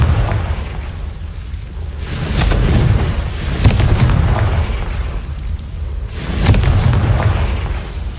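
Confringo fire spells burst in Hogwarts Legacy, two loud booming explosions a few seconds apart, each with a crackling rumbling tail and no voices over them.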